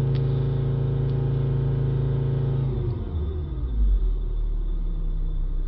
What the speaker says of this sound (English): we're holding the accelerator up, say to around 3000 RPM